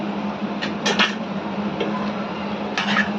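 A spatula scrapes and clinks in a pan as mashed smoky potato bharta is mixed with fried cashews, several short metallic scrapes over a steady fan-like hum, no talk.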